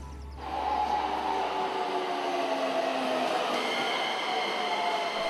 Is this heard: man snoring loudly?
no